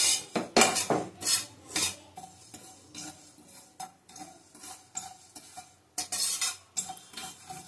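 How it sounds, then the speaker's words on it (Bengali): Fennel seeds dry-roasting in a dry kadai, stirred with a metal spoon: close, rhythmic scraping and clinking strokes come in bursts, with no talking. "শুকনো কড়াই থেকে ভেজে নিচ্ছি। 1 চামচের মতন আছে মৌরি।"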